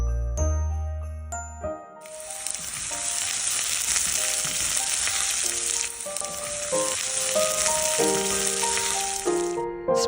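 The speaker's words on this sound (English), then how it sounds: "Once it's sizzling, add in the minced garlic." Minced garlic sizzles in melted butter in a pan over medium heat, a loud steady crackling fry, with light clinks and stirring at the start and end.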